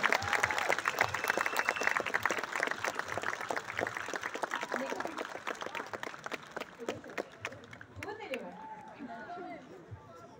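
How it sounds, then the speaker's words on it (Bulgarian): An audience applauds the teachers at a school farewell ceremony, a thick sustained patter of many hands that gradually thins, with crowd murmur and voices emerging as it winds down. "Аплодисменти."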